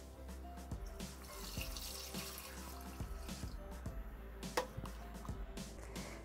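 Water and cinnamon mixture poured into a Thermomix TM6 jug, a soft, steady liquid trickle with small splashes and clinks, fairly quiet and heard alone.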